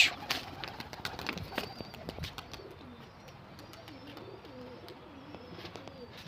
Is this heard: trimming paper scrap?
no